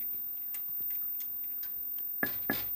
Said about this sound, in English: Here's a noise from the flyback transformer